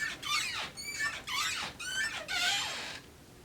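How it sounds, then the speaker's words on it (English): Squeaky closet doors in a college dorm room, three or four high, wavering creaks of moderate volume in quick succession with short pauses between them. "Yeah, I still have squeaky closet doors."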